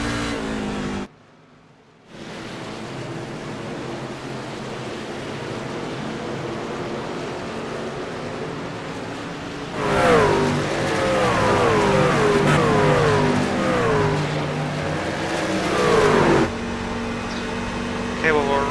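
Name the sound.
race car spinning out in iRacing video game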